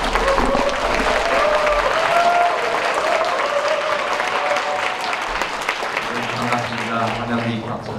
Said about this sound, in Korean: 큰 박수로 감사해주세요